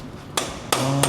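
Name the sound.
hammering a star nut into a bicycle fork steerer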